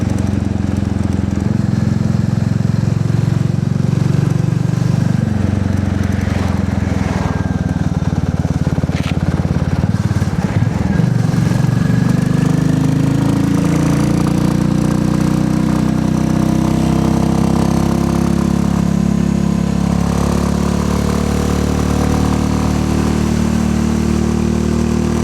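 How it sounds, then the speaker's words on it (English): A Royal Enfield Classic 350 motorcycle rides along, its single-cylinder engine thrumming loudly and steadily with a low throbbing note that rises and falls gently as the bike cruises, with wind rush behind. "Forgot how much I enjoy riding this little 350."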